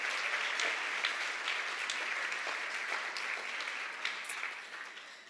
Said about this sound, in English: big applause for the staff for pulling together this evening